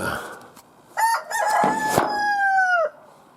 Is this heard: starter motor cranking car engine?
no